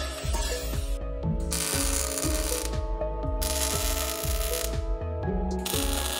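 An electric shear cuts 16 gauge sheet metal, producing a loud, close, rapid rhythmic clatter of repeated mechanical strokes with a few brief pauses; no talking.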